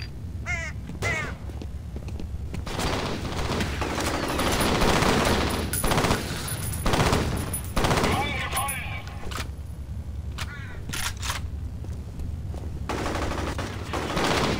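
Bursts of gunfire in the shooter video game F.E.A.R. Extraction Point, rapid automatic volleys scattered across the scene amid game noise, with someone talking over parts of it.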